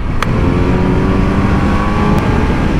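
A Kawasaki Z900 motorcycle pulls hard past 5000 RPM, its engine a loud, continuous droning roar with a steady rising whine, heard close up with wind noise and no talking.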